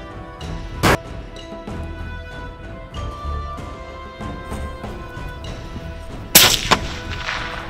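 Rifle shots fired during a crocodile hunt: two sharp, loud cracks, one early and one near the end with a quick echoing follow-up, over a steady background hum.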